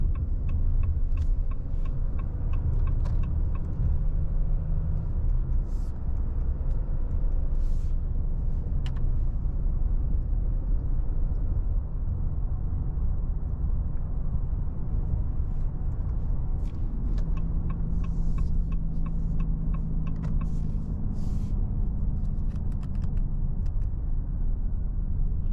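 A 2025 Ram 2500 Cummins truck accelerates through its gears on the road, heard as a steady low engine drone and road rumble from inside the cab, with faint ticking and no talk.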